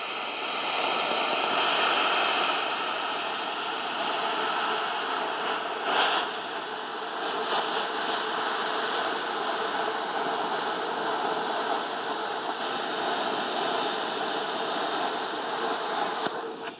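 A BestArc Gen 3 BTC500DP plasma cutter cuts with a loud, steady hissing rush of air and arc, holding nearly constant for the whole stretch with small surges.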